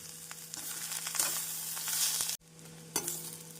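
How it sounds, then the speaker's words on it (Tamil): Raw banana being stirred into a hot pan for vazhakai poriyal, with a steady close sizzle and scraping stir strokes, briefly interrupted by a short pause before the frying continues. "வாழைக்காய் சேர்த்து நன்றாக மிக்ஸ் செய்ய வேண்டும்"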